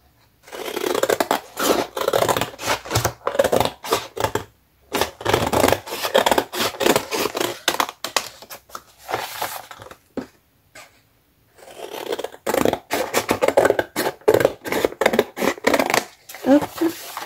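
Scissors cutting through a clementine jute net for a junk journal cover, giving bursts of close, crisp snipping and rustling that pause and resume, with someone talking between them.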